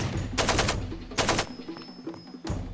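Bursts of automatic fire from an AK-47 in Far Cry 2 crack out in three short volleys, loud and close, with quieter game sounds in the gaps.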